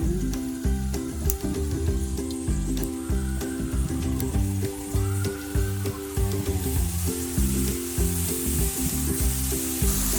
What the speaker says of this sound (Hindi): अब हम थोड़े थोड़े करके नमक पारे इसमें डालते हैं और इनको फ्राई करते हैं।